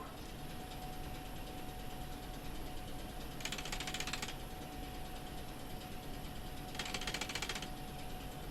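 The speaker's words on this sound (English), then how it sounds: "now we get the wrench out" Wrench work in the Trans Siberian Railway Simulator game: two short bursts of ratcheting clicks, each about a second long, over a quiet steady hum.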